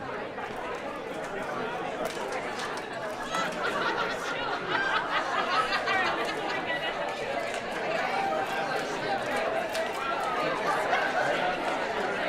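A group of people cheering on winners during a group game: dense crowd chatter with shouts, laughter and snickers, building slightly louder over time and heard throughout.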